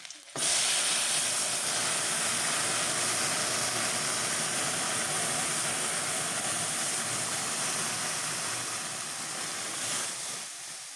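Ginger-laced tempering (phoron) poured into dal sizzles with a loud, steady hiss that starts abruptly and holds almost unchanged for about ten seconds.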